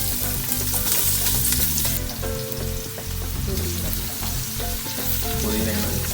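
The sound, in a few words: onions sizzling as they fry for beef biryani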